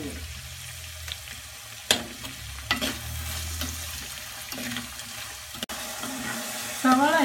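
Sliced onions with a pinch of salt sauté in a pan for a fried chicken curry, giving a steady sizzle under scraping stirs and a few sharp clanks of the spoon against the pan.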